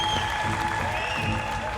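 Audience applause and cheering in the MasterChef US season 4 finale studio as past competitors are welcomed, a steady, dense clapping wash lasting the whole moment with a voice over it.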